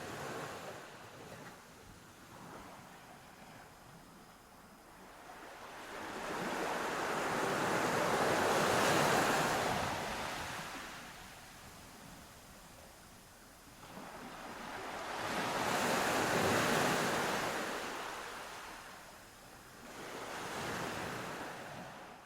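Ocean surf rolls in slow, broad swells of washing noise, rising and falling every several seconds with a soft wind hiss between the waves and no voices.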